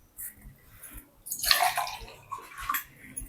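Water splashes and pours in short irregular gushes, drinking water being poured, close and fairly loud with quiet gaps between the pours.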